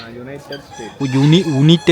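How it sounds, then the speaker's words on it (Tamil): A chicken of a United States breed with feathery, baggy-looking legs, kept at a park in Yercaud, clucks and calls in a few short, close, fairly loud bursts with brief gaps between them. "பேகி பேண்ட் போட்ட சிக்கன்."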